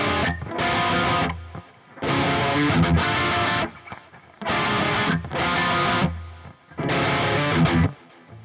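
Distorted electric guitar playing the strummed chord riff from a song's intro: loud chord bursts in repeated phrases separated by short gaps.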